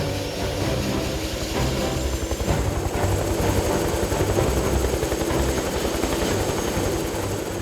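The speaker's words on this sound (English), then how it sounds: "we have helicopters that helps us a lot now during our works" A helicopter's rotor thumps rapidly and steadily close by at a clifftop rail bridge work site, a loud continuous chopping roar with engine whine and no talking.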